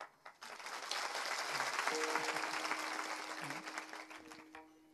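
Audience applause at a kirtan festival, a dense steady burst of many hands clapping that swells in, holds for several seconds and tapers off, with a sustained tone running underneath.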